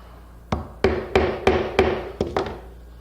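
Mallet tapping a glued wooden peg into a mortise in a woodworking shop: seven sharp, close wooden knocks in quick, slightly uneven succession, alone.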